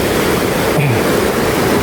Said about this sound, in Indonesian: airnya lumayan deras dan jernih banget